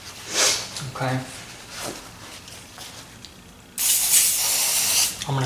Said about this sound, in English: I'm going to spray some on my paper towel here.